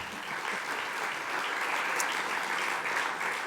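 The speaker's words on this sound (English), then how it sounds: "dear Eddie, needs an applause" A room full of delegates applauds at the opening of the Bled Strategic Forum 2024, a dense, even wash of clapping that holds steady throughout without any talk over it.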